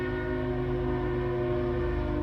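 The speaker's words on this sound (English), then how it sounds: "And there's a train coming, and you can hear those in the big city." A train's horn holds a long, steady, loud blast in a big city, its sustained tones droning without a break and with no talk over it.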